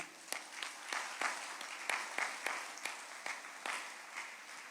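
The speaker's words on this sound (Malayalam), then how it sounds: "ഒന്ന് കൈയുയർത്തി കൈയടിക്കുക." A congregation at a devotional talk on marriage claps in a steady rhythm, about two to three sharp, distinct claps per second, faint and somewhat distant, with little talk.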